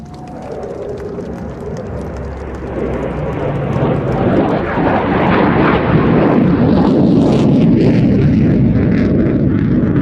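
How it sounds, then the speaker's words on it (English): At the Cosford Airshow, an RAF Typhoon jet and Spitfire aircraft make a break overhead, a broad roar that swells steadily louder and holds, distant at first and then filling the sound. "get ready for the Typhoon and Spitfire break"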